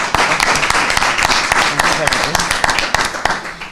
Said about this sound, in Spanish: os pediría un fuerte aplauso para ellos